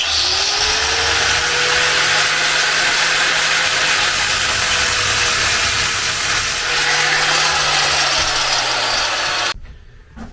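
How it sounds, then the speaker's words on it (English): Angle grinder making a relief cut on a part of an old Bobcat Predator Pro 61-inch mower, a loud steady high-pitched whine with a slight pitch dip midway, running nearly ten seconds before cutting off abruptly. "I took the grinder, gave it a little relief cut"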